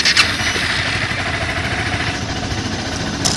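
A 2012 Honda CBR 250 motorcycle idles in neutral with a steady, close engine drone and a faint exhaust putter throughout.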